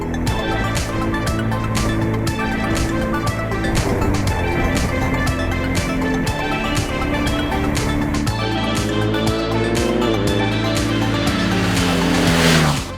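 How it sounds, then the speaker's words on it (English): A 2019 BMW R1250R motorcycle ridden on twisty roads, its engine droning loud and close throughout, with the pitch climbing and dropping as it revs and shifts. "let's go to the twisties and see how the bike reacts over there"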